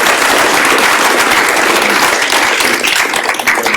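A loud, full round of applause for the speakers at an innovation summit, the crowd clapping steadily and densely from start to finish and thinning slightly at the very end.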